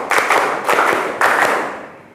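Rhythmic hand clapping in a classroom clapping game, three distinct groups of fast claps from a group, close and loud, the last group trailing off.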